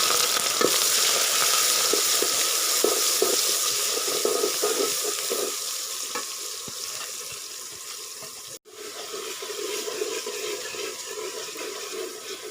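Chopped onions sizzle and fry in hot oil in a pan for a Mianwali-style chicken shorba, a steady loud crackling hiss with a brief dip near the end, no talking.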